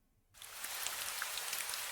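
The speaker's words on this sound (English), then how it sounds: "the rain is drizzling gently outside" Gentle drizzling rain begins abruptly after a quiet moment, then patters steadily and softly on a roof and walls, a fine even hiss with scattered light drop taps.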